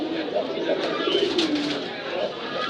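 At a busy pigeon market, a pigeon gives a series of low rolling coos close by, set against crowd chatter and people talking nearby.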